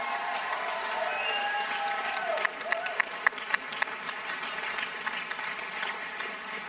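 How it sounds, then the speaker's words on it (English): An audience at the Scottish Regional Championships brass band contest gives steady applause for the first female chair of the Association of Brass Band Adjudicators. The clapping is moderately distant, with sharper individual claps rising above the sustained crowd noise. "Give a round of applause."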